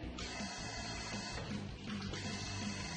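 A shower tap in a hotel bathroom runs strongly, giving a steady hiss of water that splashes and rushes throughout, moderately close, with no speech.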